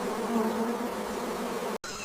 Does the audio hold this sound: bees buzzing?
yes